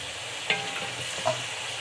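Chicken fries with black pepper and cloves for a quick chicken karahi, a soft continuous sizzle with two small clinks of stirring.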